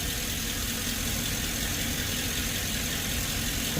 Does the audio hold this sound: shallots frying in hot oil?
no